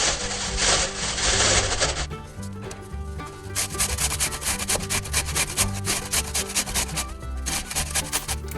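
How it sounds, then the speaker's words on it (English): Raw beets being grated by hand on a grater, a steady rhythmic rasping scrape, loud and close. A short pause comes early, then the strokes resume continuously with no speech. "I'm going to continue grating the beets"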